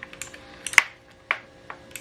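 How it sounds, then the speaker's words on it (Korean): Scattered, crisp keystrokes clack on a mechanical keyboard with clicky blue switches, each press sharp and close, with irregular pauses between them. "키보드 두 개 다 기계식 청축인데요 이렇게 저는 키보드를 두드렸을 때 이렇게 소리 나는 게 좋더라고요"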